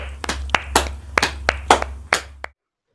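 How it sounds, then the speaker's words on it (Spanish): A church congregation applauds in a handful of loud, spaced claps that stop abruptly, heard close over a low hum. "Un fuerte aplauso para el Rey de Reyes."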